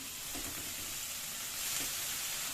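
Chana leaves sabji sizzling and frying steadily in a pan, a continuous close hiss with faint stirring, no talking.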